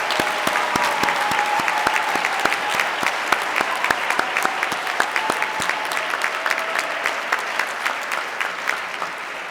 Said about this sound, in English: she needs another round of applause for all the work that she has done